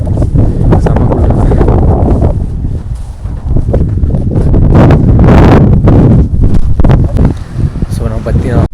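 Strong wind gusts roar across the microphone beside Pangong Lake on a remote cold high-altitude bike ride in Ladakh, a loud steady rumble swelling and buffeting throughout, with speech mixed underneath.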